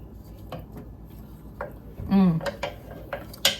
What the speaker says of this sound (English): she's helping me kind of stir it and cover all the pieces in there